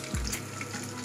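Quail eggs frying with onions in a pan give a brief, close, steady sizzle with a faint scrape of stirring, and no voices.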